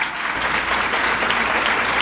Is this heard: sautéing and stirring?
no